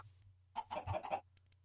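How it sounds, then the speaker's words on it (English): Chickens in the Minecraft video game give a short burst of clucking, a few quick throaty clucks close by over a low steady hum, followed by faint ticks. "We're trying to get some bloody chickens."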